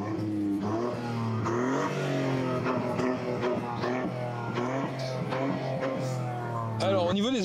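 A Ford Fiesta ST MK8 hatchback with over 231 hp, engine held at a steady droning idle in sport mode before a sharp rev rises near the end, with people talking over it.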